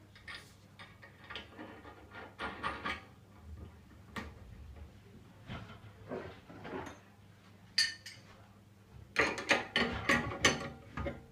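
Metallic ratcheting clicks in short, irregular bursts as a fixing bolt is tightened on the driver's side stub axle of a 2014/15 Dino ride-on train, close and fairly quiet, with a denser flurry of clicks near the end.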